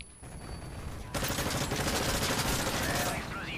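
Rapid automatic gunfire in the video game Call of Duty: Modern Warfare 3 on PS3, sprayed in a sweep from left to right, pours out as a dense sustained burst that grows louder partway through, with no voice over it.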